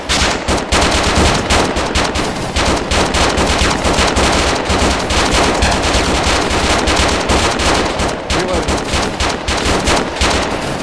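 Sustained medium machine gun fire in a combat game, dense rapid bursts rattling almost continuously and loud throughout, with a voice faintly calling out beneath the shooting.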